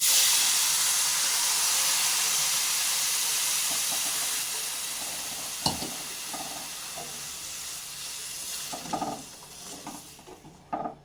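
Water poured into ghee-roasted rava in a hot pan sets off a loud, steady steaming hiss and sizzle that slowly fades, with a few clinks and stirring knocks near the end.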